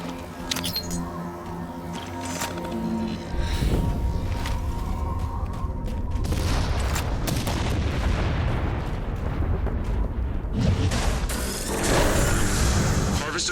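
A Covenant Harvester opens in Halo 4 with heavy mechanical clanks and ratcheting, then deep rumbling booms and grinding machinery building into a loud, dense roar with scattered impacts.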